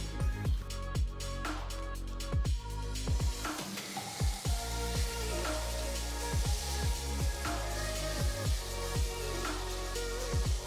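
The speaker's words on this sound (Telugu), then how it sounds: "మసాలాలో ఉన్న పచ్చి వాసన పోయేంత వరకు వేయించాలి." Masala and three chopped medium tomatoes fry in a pan for biryani, giving a steady close sizzle broken by repeated clattering strikes of a stirring spoon against the pan.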